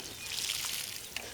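Water is poured over garden bean plants, a soft, close, steady splashing trickle with a brief splatter near the end and no talking.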